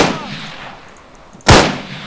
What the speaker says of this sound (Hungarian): Jó, teszteljük a fegyvert.